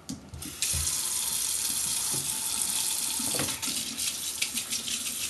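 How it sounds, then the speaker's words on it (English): Warm water runs steadily from a tap into a sink while a cracked ice luge is being repaired, a continuous splashing rush with a few small knocks underneath. "Run some warm water over your crack area"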